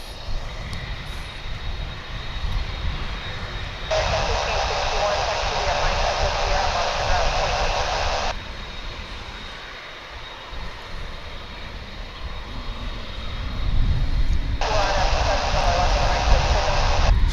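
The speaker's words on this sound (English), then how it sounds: "So it looks like the Phoenix-bound Dreamliner gets first dibs here." Jet engine roar from a Boeing 787 Dreamliner, American Airlines flight bound for Phoenix, at Dallas Fort Worth International Airport, a steady distant rumble with a brighter broadband swell that rises and recedes, over a live radio feed and talk.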